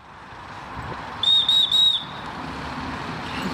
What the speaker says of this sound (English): Just because your dog responds to the whistle once doesn't mean they understand it.